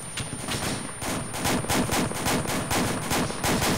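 Rapid gunfire in a tactical video game, dense bursts of automatic shots firing in quick succession, loud and continuous throughout.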